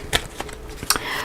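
Tarot cards being shuffled by hand: a few quick, crisp riffling bursts close by, separated by short pauses, with no talking.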